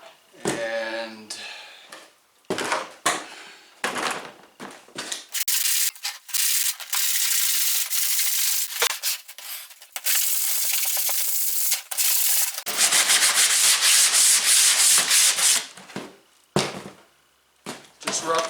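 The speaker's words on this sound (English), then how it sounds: "Take a block sander or just a piece of sandpaper. I have a block sander." Block sander rubbing back and forth over burrs on a pine-pellet cat litter sifting box, steady scratchy strokes in bursts with short pauses between, close and fairly loud.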